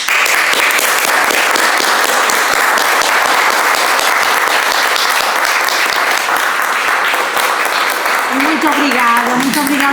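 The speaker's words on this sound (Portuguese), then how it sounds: "Por isso eu peço uma grande salva de palmas." Audience applause at a poetry gathering in Campanhã, a steady, dense clapping that fills the room for the whole stretch, with a voice starting to speak faintly under it near the end.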